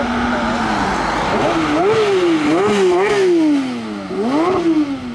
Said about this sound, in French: Nouvelle GT3 RS 992. Le rupteur.